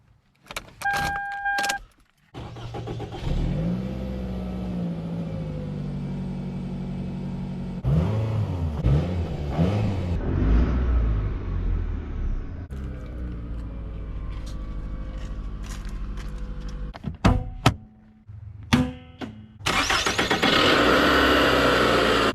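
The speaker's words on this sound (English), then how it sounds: "Today I'm inside 2003 Toyota Camry. Let's hit it with the cold start." A 2003 Toyota Camry LE with about 208,000 miles cranks and catches on a cold start, keys and clicks first, then a short starter whirr and a loud engine flare settling into a steady, close idle with a later rev and rattle.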